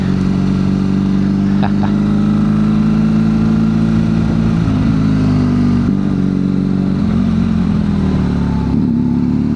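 A BMW GSA motorcycle riding on a road, its engine a loud, steady drone that dips and rises slightly as the rider shifts, with wind noise and a brief clatter, heard close with no talk.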